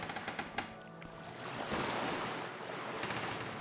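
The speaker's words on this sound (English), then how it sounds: "The waves are getting louder." Ocean waves in the video game Morrowind, a broad rushing surf with wind, swelling louder midway and sustained, with a few faint knocks early on and no talking.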